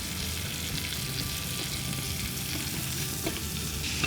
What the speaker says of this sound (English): So these have been cooking in the pan for about 10 minutes